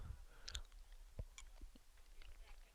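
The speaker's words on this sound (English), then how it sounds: "Once again, got a cough drop in my mouth." Close, quiet mouth sounds: wet clicks and small smacks as a cough drop is sucked and rolled around, with no talking.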